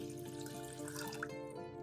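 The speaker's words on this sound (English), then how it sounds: "pour 300 milliliters of water into a pan." 300 milliliters of water runs steadily into a pan, a continuous close pouring stream with a faint metallic ring, no voices.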